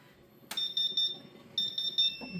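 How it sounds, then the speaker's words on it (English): Sharp electronic beeping of a flow alarm on a Thunder Laser Nova water chiller, two clusters of repeated high tones after a click, over a low pump hum. "It should start beeping for a flow alarm"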